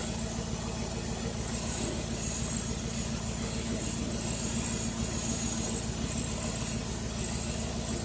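A truck engine idles with a noisy PCV valve, a steady, unbroken low rumble with a constant mechanical hum and faint hiss, heard close and even throughout.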